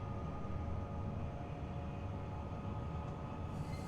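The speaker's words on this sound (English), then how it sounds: "Got a little bit of the the rattle there going along the track, which is quite nice" A Class 745 electric train in Train Simulator Classic rattles along the track between Ipswich and London Liverpool Street at speed, a steady low rumble with rhythmic wheel clatter, fairly quiet and continuous, with no voices.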